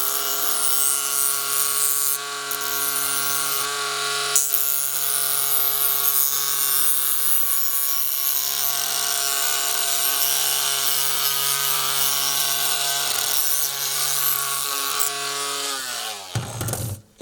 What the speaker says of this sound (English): when you get real close to being done, deburr the edges